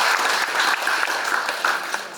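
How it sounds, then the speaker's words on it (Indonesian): Audience applause at the PPTI 2024 extraordinary congress, a steady dense wash of clapping from a large crowd that holds even throughout the short stretch. "Tepuk tangan."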